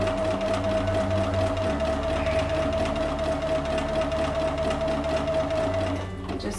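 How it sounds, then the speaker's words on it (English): A domestic sewing machine runs steadily, stitching elastic into a small doll swimsuit. It gives a continuous close whirring hum with a rapid needle rhythm and winds down right at the end. "you just keep sewing"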